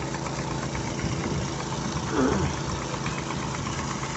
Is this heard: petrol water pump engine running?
yes